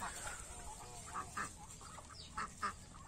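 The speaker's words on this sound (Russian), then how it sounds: "Все утки вот стоят," Muscovy ducks standing in the rain give a few soft, scattered quacks, faint at a moderate distance over a steady background hiss of rainfall.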